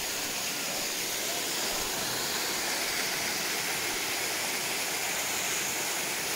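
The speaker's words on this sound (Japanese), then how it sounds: "なんかもう滝のオンパレードやな。" Waterfall beside a mountain trail on the Sebadani descent route of Higashi-Akaishi, a steady, loud, broadband rush of falling water close by, with no voices over it.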